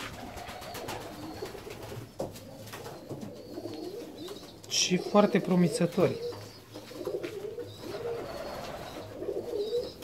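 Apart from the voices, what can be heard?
fancy pigeons cooing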